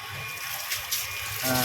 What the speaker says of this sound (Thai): เครื่องทำงานปกติน้ำไหลนะครับ